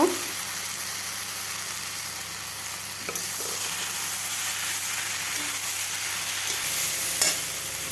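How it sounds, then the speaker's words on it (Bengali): Peas, potato and spices for ghugni sizzle in a pan while being stirred, giving a continuous close frying hiss with occasional scraping clinks from the stirring utensil. "মটরশুঁটিতে দিয়ে আবারও ভালোভাবে নেড়ে দেব"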